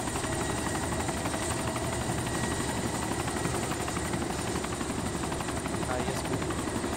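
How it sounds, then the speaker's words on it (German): Helicopter landing in the video game DayZ, a steady loud rotor thrum and whine running unbroken throughout, with faint game ambience beneath. "Pass auf, dass du nicht auf dem anderen Hubschrauber landest,"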